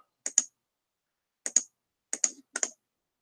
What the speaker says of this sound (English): You hear me doing a lot of clicking, guys.